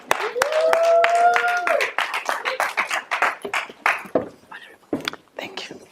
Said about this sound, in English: Please clap hands for Gift Ostallos as he comes to the stage to give us an address.